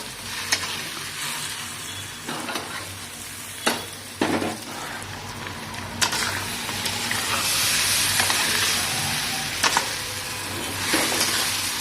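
Spiced bheja bhaji, goat brain fried with light spices in a pan until brown, sizzles and hisses steadily with scattered sharp clicks of a spoon stirring against the pan, close up and without talk.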